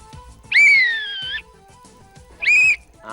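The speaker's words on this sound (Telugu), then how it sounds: "గట్టిగా వేయండి విజిల్" Two loud, sharp whistle blasts on a Telugu TV game show set, the first long and sustained, the second shorter, with a brief quiet gap between them.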